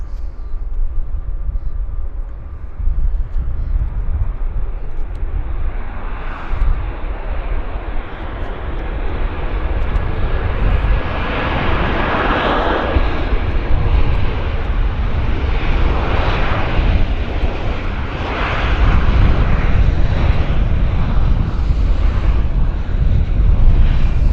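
Big airliner engines spool up at Vancouver Airport, a broad roaring rumble heard from a distance that swells and thickens over time, mixed with wind noise and no speech.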